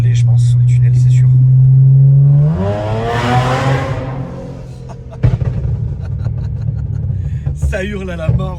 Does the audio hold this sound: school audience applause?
no